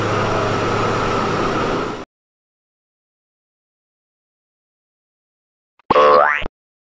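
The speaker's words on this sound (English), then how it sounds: "Motor grader." Heavy motor grader engine, a steady broadband rumble that runs loud for about two seconds and cuts off abruptly, followed by silence and then a brief rising, whining mechanical burst near the end.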